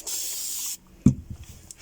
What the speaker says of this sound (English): so just going to spray that again